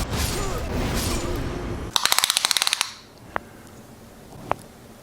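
A hand ballista in Elden Ring cranks with a rapid burst of loud mechanical clicks, then two sharp, isolated snaps follow a moment apart over a quieter background.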